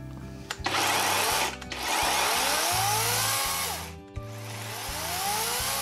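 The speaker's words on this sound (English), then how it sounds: "Here's what it really sounds like." A Greenworks 40V cordless chainsaw runs with a steady electric motor whine and chain buzz, revving up and easing off a couple of times, fairly close and without talk.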